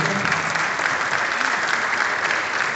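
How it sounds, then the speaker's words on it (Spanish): Steady, dense applause from an awards-ceremony audience at a metalworking-industry prize event, loud and continuous for about three seconds with no voices over it, cutting off abruptly at the end. "Un aplauso."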